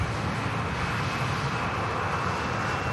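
Lufthansa Airbus A320 rolling down runway 23L at Manchester Airport on its takeoff run, a steady, broad roar of jet engines heard at a distance and holding even throughout, with no talking.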